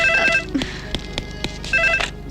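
An old-style telephone bell rings loudly in two bursts with a short gap between them, while other room sounds and knocks come through underneath. The setting is a police station where a call from the SP is expected.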